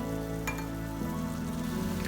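Chicken sizzles with tomato paste in a pan as it is stirred, a steady frying hiss throughout with a faint scrape of the spoon.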